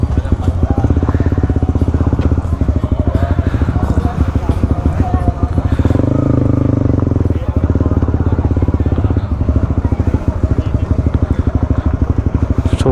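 A large Honda CB150X motorcycle engine rumbles steadily up close, idling and revving slightly as it maneuvers into parking, with voices talking over it.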